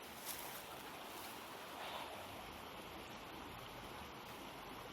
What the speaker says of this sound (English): There's a creek running down through here